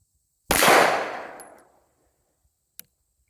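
A single sharp, loud shot from a SIG Sauer P365 compact 9mm pistol cracks nearby and decays over about a second, followed by a faint metallic click.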